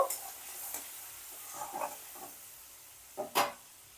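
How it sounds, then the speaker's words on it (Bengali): A ground spice paste is sautéed and stirred in a pan, heard as a faint low sizzle broken by a few scraping stirs, with a louder scrape near the end. "দিয়ে ভালো করে এবার একটু মশলাটাকে আমি কষিয়ে নেব"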